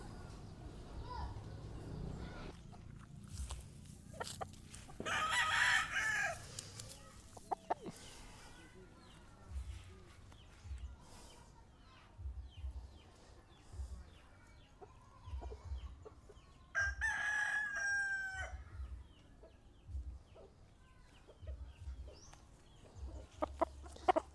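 Kelso gamefowl rooster crowing in a farm yard, two clear crows standing out among clucks from other fowl, while people talk intermittently nearby.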